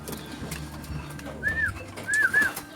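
Pigeons entering their coop give a few soft coos, one at first and then a quick pair, close by over a low steady background hum.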